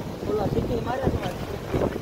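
Strong wind during heavy rain in Dwarka roars and buffets the microphone in a steady rush for two seconds, with faint voice-like murmurs mixed into the gusts.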